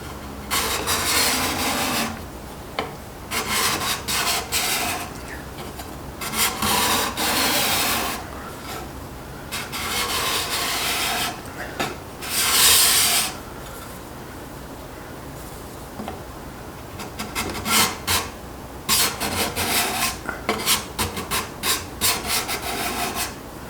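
An Accu-Burr-sharpened card scraper shaves wood in repeated rasping strokes, each a short scratchy burst separated by brief pauses, close and fairly loud with an uneven rhythm.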